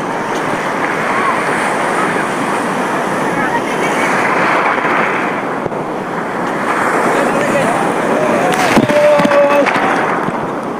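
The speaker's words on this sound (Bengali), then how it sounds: "বড় বড় ঢেউগুলো আসে নিয়ে চলে যাচ্ছে এখান থেকে 2-10 মিটার তো মিনিমাম নিয়ে যাচ্ছে" Big ocean waves surge and break along Cox's Bazar sea beach in a continuous loud roar that swells and ebbs, with wind buffeting the microphone and a brief sharper clatter near the end.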